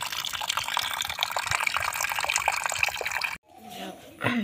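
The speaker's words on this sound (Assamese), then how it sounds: "ফাৰ্ষ্ট পানী দিয়ে মানে ধুনীয়াকৈ ধুই ল'ম" Tap water runs and splashes steadily while food is rinsed clean before cooking, a broad rushing wash that cuts off briefly near the end and then resumes more softly.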